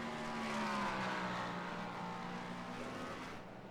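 A GT race car overtaken in an IMSA racing video game sweeps past with a loud, smooth engine whine that fades away near the end.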